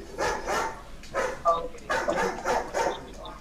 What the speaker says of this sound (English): Hush with the barking.